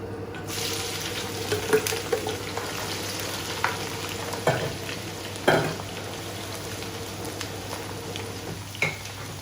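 Ginger, garlic and shallots sauté in a pan with a steady, close sizzle, broken by a few sharper clicks and scrapes of stirring.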